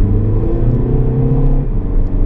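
Car engine accelerating hard from inside the cabin, a loud, deep rumbling roar with rising revs and a brief dip near the end, no talking over it.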